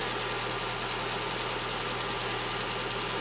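A 2009 Honda Accord with an interference engine, a broken variable valve timing sprocket and a newly replaced valve cover and oil pan gasket idles in a steady, loud, unbroken drone, with no talk.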